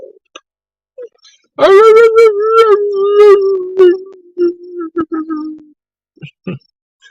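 A long, drawn-out howling wail, loud and close, rises and wavers for several seconds with short yelps before and after; it may be dogs howling or a voice imitating them.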